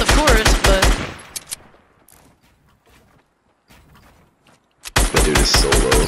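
Rapid bursts of automatic gunfire from a battle royale video game, loud and dense at the start, then a quieter stretch of scattered distant shots before another heavy volley erupts near the end.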